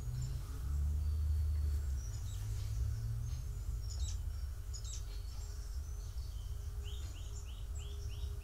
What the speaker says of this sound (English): There's actual birds.